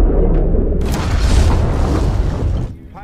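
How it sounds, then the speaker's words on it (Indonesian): A heavy, loud torpedo explosion against a ship booms out in one deep rumbling blast that fades after a couple of seconds. "torpedo pun mengenai kapal Volkov hingga meledak"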